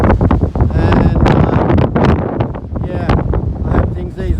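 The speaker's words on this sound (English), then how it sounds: "This wind is ferocious and westerly and northwesterly, which is probably about the worst direction" A ferocious westerly and northwesterly wind roars during the 2020 bushfire at Bermagui, buffeting the microphone in loud, continuous gusts, with someone talking over it.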